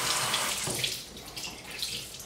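Warm water streams steadily from a tap onto a face cloth, a continuous close rush with no talking.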